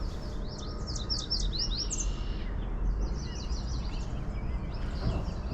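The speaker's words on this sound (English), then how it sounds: "the birds sound pretty cool" Birds sing outdoors in bursts of quick, high chirping trills, repeated in short phrases over a steady rumble of wind or distant traffic.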